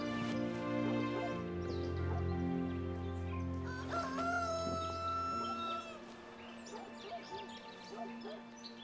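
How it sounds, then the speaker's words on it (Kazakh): A rooster crows loudly in a long drawn-out call, with rising and falling harmonic tones, heard over a steady background of other sounds in a Kazakh drama series setting. "Әтештің дауысына..."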